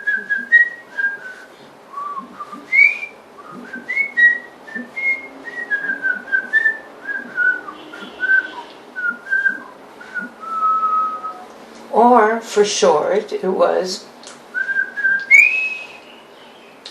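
A family whistle carrying the theme line of an opera, a melodic run of clear whistled notes rising and falling through the phrase, briefly broken by a short spoken aside before the whistling resumes.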